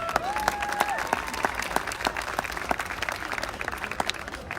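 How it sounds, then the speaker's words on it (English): A pageant audience claps for a judge in a steady, moderately close round of applause, with individual hand claps standing out and a brief musical tone near the start. "Big round of applause for Serena"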